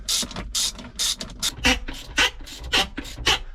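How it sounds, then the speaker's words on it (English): A ratchet driving screws back into a swivel seat base in a Ford Transit Custom van, with rapid repeated clicking bursts in an even rhythm, close and fairly loud, with no talking. "getting the screws back in"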